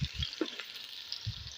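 Onions fry in a pan while browning for a chicken dum biryani, a faint steady sizzle with a few soft stirring knocks, quiet and close.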